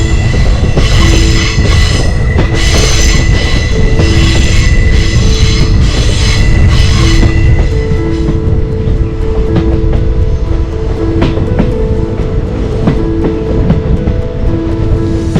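The Punalur–Thenkasi train crosses the 13-arch bridge at Kazhuthuruty, a loud continuous rumble and roar with wheel screeches and metallic clatter heard from on board.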